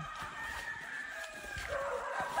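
Roosters crow faintly at a distance from a chicken coop by a river, with a few clucks and hens over a steady outdoor background; no one speaks.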